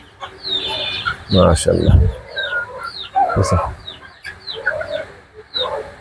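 Native country chickens cluck together on a rooftop farm, loud close calls in repeated bursts, with someone speaking briefly among them.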